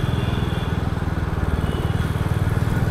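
A motorcycle engine runs at a steady, close drone with a fast even pulse and constant wind and road noise, heard while riding on a road near Hyderabad.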